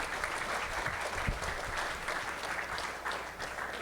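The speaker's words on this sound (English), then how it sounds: "Let's give a round of applause to everybody on the panel." A crowd applauds a panel at a discussion in Hilo, giving a steady, fairly soft wash of clapping from a room of listeners that carries on without pause, with a few low murmurs underneath.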